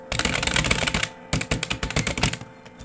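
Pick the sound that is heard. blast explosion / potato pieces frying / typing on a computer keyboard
typing on a computer keyboard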